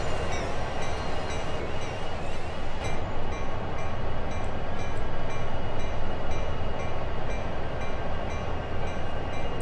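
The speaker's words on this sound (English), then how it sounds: "my train started to take off on me" A train in the Train Sim World simulator rolls along at a steady pace, a continuous loud rumble of wheels and engine with a faint horn-like tone running throughout, with no voices.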